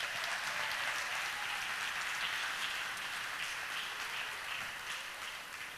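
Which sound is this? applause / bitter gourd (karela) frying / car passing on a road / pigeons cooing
applause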